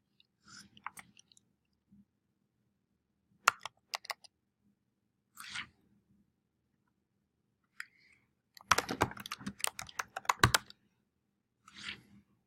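Typing on a computer keyboard in short, scattered bursts of crisp key clicks separated by quiet gaps, with one denser flurry near the end, close and fairly quiet.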